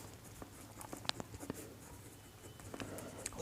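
Chalk or marker scratching across a board during a Class 10 maths lesson on circle and triangle areas, a series of short taps and strokes in a quiet room with no voices.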